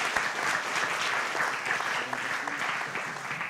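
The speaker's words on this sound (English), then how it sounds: "please join me again in giving a round of applause to Todd" An audience at an art, design and science conference gives sustained applause, an even, dense clatter of many hands at moderate level that holds steady from start to finish.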